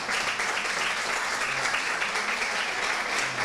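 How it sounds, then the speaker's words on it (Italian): Audience applause at a women's day festival award presentation, a dense, sustained roar of many hands clapping steadily throughout, loud and even with no talk over it. "Ritira il premio Fabrizio Ardita e l'applauso salga più forte"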